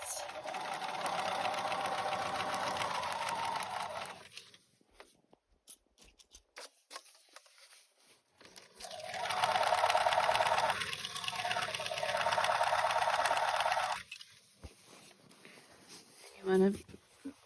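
Sewing machine stitching fabric slowly, running in long steady bursts with pauses between, close and loud, while someone talks over parts of it.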